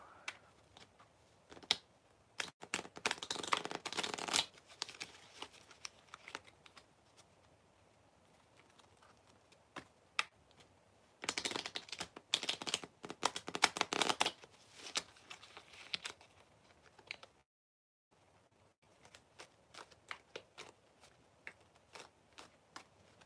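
Bursts of tarot card shuffling come in several rapid riffling runs separated by quiet pauses, with soft taps and handling noises in between.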